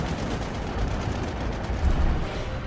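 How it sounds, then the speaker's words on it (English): The warship USS Enterprise fires anti-aircraft guns from every battery, a dense, continuous rumbling barrage of rapid gunfire with heavy low booms, loud and steady throughout, with no voices. "Enterprise erupts with gunfire as every battery spews lead."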